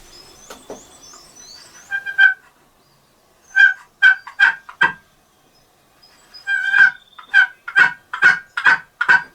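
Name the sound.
bird calling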